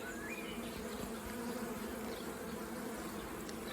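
A honey bee colony at a zoo hive hums in a steady, dense drone of many wings, constant and close with no voices over it.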